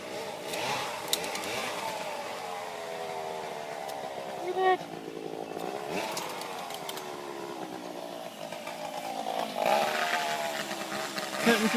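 A chainsaw cutting down trees whines and revs in the distance, its pitch rising and falling over a sustained buzzing drone, moderately faint.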